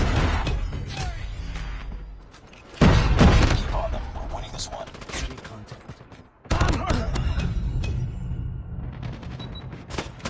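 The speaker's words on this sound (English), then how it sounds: "Predator missile inbound." A Predator missile strike lands in Warzone Mobile: a sudden loud explosive blast with rumbling low end, then a second heavy impact amid dense game battle noise, gunfire crackle and radio-style voice callouts.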